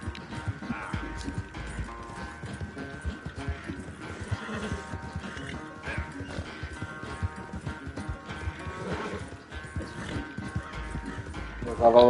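Horse hooves clop at a quick, steady gallop in the game Red Dead Redemption 2 during a race, a soft continuous rhythm mixed with game ambience, with people talking faintly over it.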